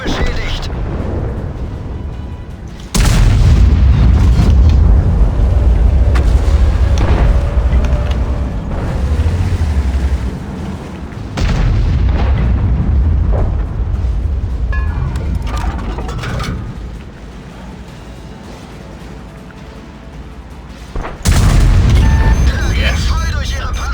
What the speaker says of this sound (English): Swung the gun round and boom